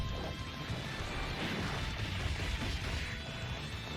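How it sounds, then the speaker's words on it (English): An attack effect for UI Goku in the Dragon Ball Dokkan mobile game: dense, crashing impact noise with rumbling booms and bright whooshing layers that run continuously and loudly throughout. "Nice little sound effect there from UI Goku."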